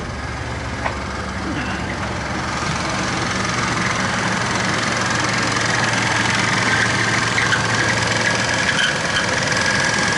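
A car engine idles with a remanufactured AC compressor running, a steady loud mechanical drone with a constant low hum and no pauses.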